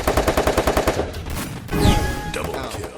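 Rapid automatic gunfire in the mobile battle royale game Free Fire, a loud close burst of evenly spaced shots followed by a louder blast and trailing weapon and effect noises.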